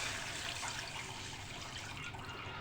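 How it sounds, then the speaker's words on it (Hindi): Water is poured from a glass into a pot of fried chicken, white cumin and salt for chicken corn soup, making a steady, close splashing rush with no talking. "अब मैं इसके अंदर 4 गिलास पानी डाल के"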